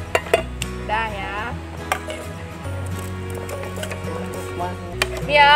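A camping casserole pot and other metal cookware clattering and clinking as it is handled, with scattered sharp knocks and scrapes, close by, while music plays in the background.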